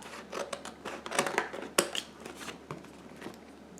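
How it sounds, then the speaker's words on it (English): Scissors snipping off the excess edge of a paper sheet for a multimedia cityscape craft, a few close crisp cuts and rustles of paper, fairly quiet with no talking. "take our scissors, flip it over, cut off anything that's extra"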